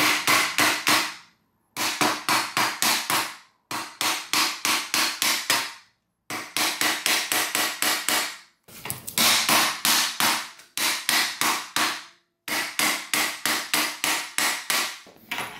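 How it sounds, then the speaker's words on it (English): A hammer strikes the metal gas lift base of a DX Racer chair in loud, close bursts of rapid blows, about seven rounds of several hits each with short pauses between them. "So let me just use a hammer and just hammer on the base."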